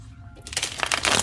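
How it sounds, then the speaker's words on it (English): A quick, crisp riffle of a shuffled deck of cards, close up and lasting about a second. "Let's give it a good shuffle"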